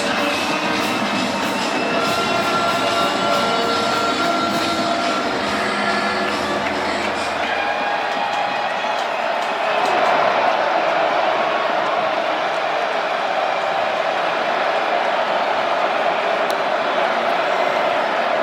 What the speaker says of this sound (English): just take a listen to this crowd here on 3rd down